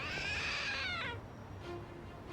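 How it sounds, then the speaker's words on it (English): Lucky cat statue in the video game Lost Judgment giving a bright, close meow lasting about a second, followed by quiet background. "It meowed! So it's a trick statue?"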